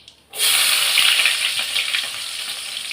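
Onions tipped into a hot pan for a mutton kulambu, with a sudden burst of loud, bright sizzling that carries on steadily after a brief quiet start, close by and with no voices.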